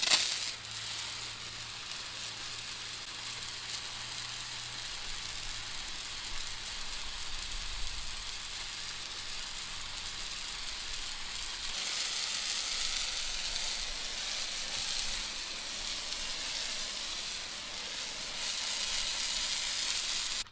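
An Aldi Workzone high pressure hose attachment with a pointy nozzle sprays water onto concrete, making a steady broadband hiss that runs unbroken throughout and grows slightly louder partway through.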